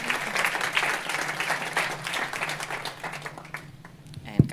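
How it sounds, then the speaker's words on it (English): Audience applause at a sustainability event hub in Davos, a dense steady patter of many hands clapping together for speakers joining the stage, fading toward the end. "So please applause for them."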